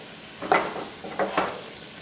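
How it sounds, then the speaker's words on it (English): Soft sizzling of cauliflower and chickpea curry in a frying pan, with a few brief bursts of louder crackle, moderately close, no voices. "that nice sizzle"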